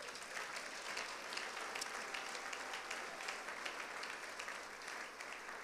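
A church congregation applauds during a Sunday worship service, steady dense clapping sustained throughout without a break, fairly distant and even in level.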